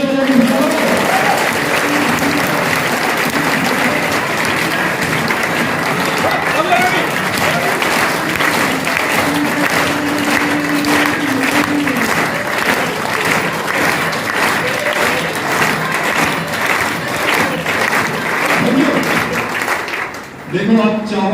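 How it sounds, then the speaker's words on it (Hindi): A large audience at a live motivational leadership seminar in Siwan, Bihar claps loudly and steadily for about twenty seconds. The dense applause barely thins before a brief dip near the end. "एक बार दमदार तालियां बजाइए"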